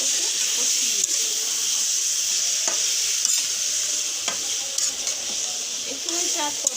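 Chicken pieces are sautéed and stirred in a pan for chicken rezala, giving a steady bright sizzle with intermittent scraping and clacking strokes of the spoon, close and continuous.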